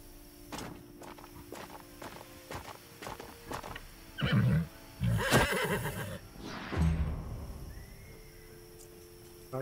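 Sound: horse whinnying in the video game Wartales

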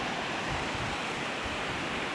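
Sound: water rushing through road drainage pipes after rain

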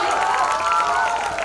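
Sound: audience applause

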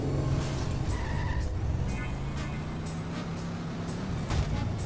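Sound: car skidding and crashing in The Simpsons Hit and Run video game

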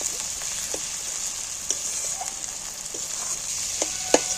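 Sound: spice paste (masala) frying in oil for jackfruit curry

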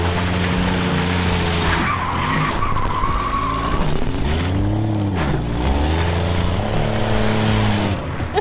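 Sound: AMC Pacer car driving and swaying on the road

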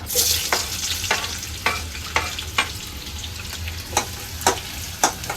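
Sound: onion frying in oil for egg curry

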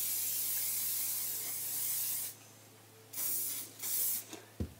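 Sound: hairspray being sprayed on hair

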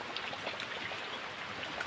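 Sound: heavy rain falling

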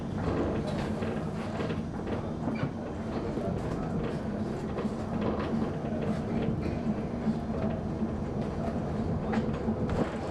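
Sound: MXA train arriving in Budapest

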